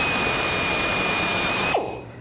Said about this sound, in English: and just drill